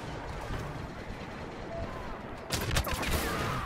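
Dense gunfire from Star Wars Battlefront, with rapid shots rattling throughout and a sharper, louder burst of blasts partway in, while a voice talks faintly under the noise.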